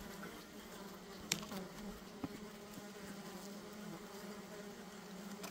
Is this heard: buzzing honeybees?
yes